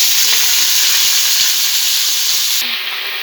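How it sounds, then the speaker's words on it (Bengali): Dry chilli, panch phoron five-spice and Malabar spinach stems fry in hot oil, a loud continuous sizzle close by with a few soft stirring knocks, the hiss easing slightly near the end. "পুঁই ডাঁটার জন্য ফোড়নে দিচ্ছি একটা শুকনো লঙ্কা, দিয়ে দিচ্ছি 5 ফোড়ন, দিয়ে দিচ্ছি পুঁই ডাঁটা"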